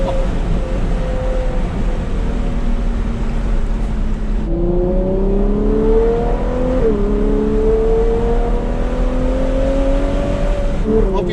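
A Ferrari 812 GTS convertible's V12 engine roaring with the roof down, steady loud drone that rises in pitch through repeated upshifts, heard from inside the moving car.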